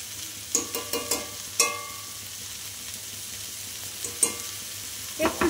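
Chilli paste frying in a pan with elephant foot yam stalks, with a soft sizzle beneath sharp scrapes and clinks of stirring that come in a few short bursts.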